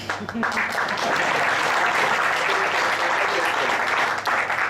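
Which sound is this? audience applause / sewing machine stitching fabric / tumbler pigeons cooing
audience applause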